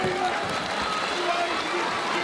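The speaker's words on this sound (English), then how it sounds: "The crowd appreciating the heart here of Mizuno" A large MMA event crowd cheers and roars in a continuous broad wash of noise throughout, with an announcer's voice over it.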